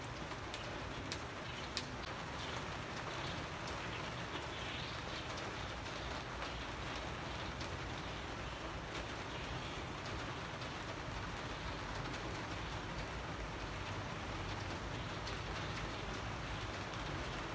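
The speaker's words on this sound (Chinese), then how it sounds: "雨愈下愈大，" A steady, dense hiss of rain falls on a shelter canopy and foliage near a bulbul nest, holding at a constant loudness throughout while doves coo softly in the background.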